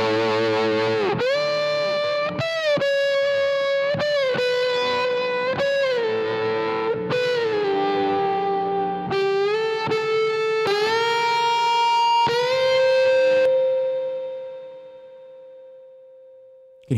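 A distorted electric guitar plays a sustained solo line through a spring reverb plugin, with a splashy, shimmering reverb tail; the last held note rings out and decays slowly.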